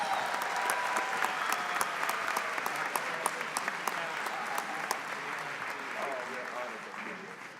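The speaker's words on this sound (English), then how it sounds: "One more round of applause." Applause for graduates at a winter university commencement ceremony, a steady, dense wash of many clapping hands that carries on evenly for several seconds, with voices murmuring faintly underneath.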